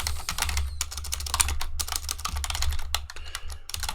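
Rapid, loud clacking of a computer keyboard during a live coding session, keystrokes tumbling in dense irregular bursts over a low steady hum, close to the microphone with no talking.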